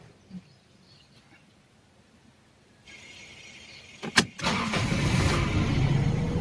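A Toyota Corolla AE101 with a 4A-FE engine and a cold-start fault sits quiet, then cranks with a few sharp bursts and catches into a loud, steady running rumble close by.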